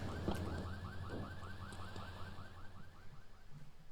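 A car alarm in GTA 3 Definitive Edition cycles its warbling electronic tones steadily in the background behind low game ambience, fairly faint and with no speech.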